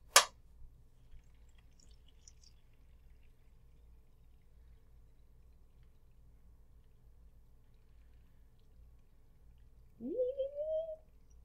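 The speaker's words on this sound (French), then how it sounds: "et on va verser le savon" Liquid hand soap is poured into a pump bottle. Near-silence gives way to a single short, close pour at the end whose tone rises as the bottle fills.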